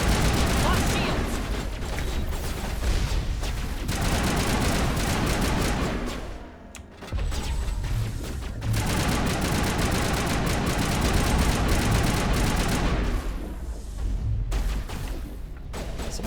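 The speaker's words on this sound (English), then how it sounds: "Is someone shooting at me from here?" Dense, continuous gunfire and bursts ring out in Mass Effect 1 Legendary Edition, loud rapid shots with a short lull partway through, and a voice talks over the combat.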